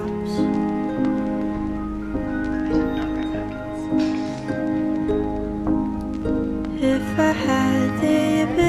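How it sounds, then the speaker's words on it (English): Light drizzle patters softly on a surface in Seoul, a faint scattered ticking of drops that sits beneath gentle, sustained music. "So when it drizzles, you hear the drops."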